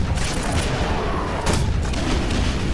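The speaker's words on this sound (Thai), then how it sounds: "เปลี่ยนเป็นกระสุนระเบิด" Rapid bursts of gunfire and booming explosive rounds in Quake 4, dense and loud, running continuously for a few seconds without any talking.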